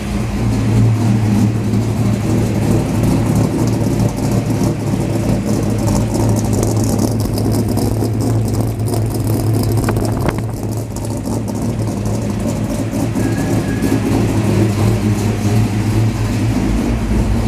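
A 408W engine in a coupe project car, throttle held slightly open: a loud, steady, close engine drone that barely changes for the whole stretch, with only one brief dip.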